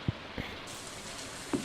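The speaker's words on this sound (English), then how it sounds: "It's raining." Rain in the Stardew Valley video game, a soft steady patter on surfaces with a few louder drops, faint and alone.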